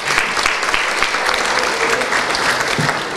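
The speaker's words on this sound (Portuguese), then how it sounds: "peço para vocês uma salva de palmas para o nosso partido" A Workers' Party gathering gives loud, dense applause for the party, with a sustained, even wash of many hands clapping close by and a faint crowd murmur underneath.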